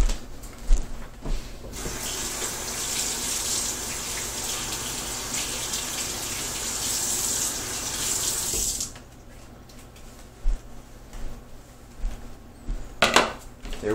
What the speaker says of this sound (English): I'm going to run it into the sink real quick.